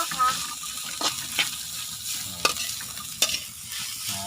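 Puso ng saging being sautéed in a pan, a continuous sizzle with a few sharp stirring clacks of a utensil against the pan and no voices.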